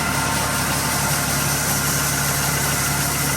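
An Allis Chalmers L3 combine engine runs steadily at a constant speed during a corn harvest, a loud, even mechanical drone with no break and no voices.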